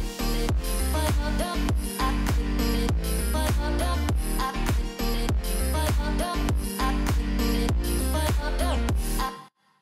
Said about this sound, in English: I've made a very simple drop just to show you the sort of elements that you should have in a drop.